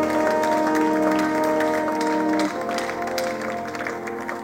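A church congregation applauds to acclaim God, with a thick wash of clapping that dips slightly midway and then carries on. Sustained musical tones run underneath the applause.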